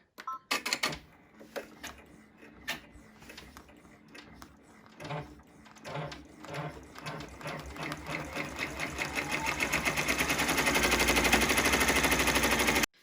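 An embroidery machine stitches green fabric appliqué onto a T-shirt, starting with scattered clicks and knocks, then building into a fast, steady mechanical rattle that grows louder and denser before stopping abruptly.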